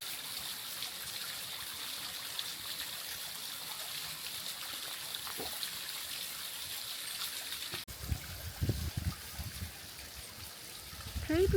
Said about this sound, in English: you can see a bit of a river down there